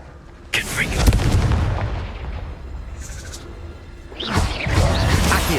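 Fiery blasts from the Confringo spell in Hogwarts Legacy, fought against an Acromantula, burst in two heavy booming waves with rumbling tails, separated by a quieter stretch with a short bright chime.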